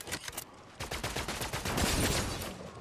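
Rapid bursts of gunfire in Fortnite, sharp repeated cracks early on, then a denser, louder run of shots with no talk.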